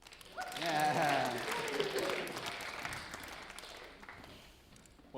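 Auction crowd cheering and clapping at a farm sale, a loud burst of applause mixed with whoops and shouting voices that swells early and slowly fades over several seconds.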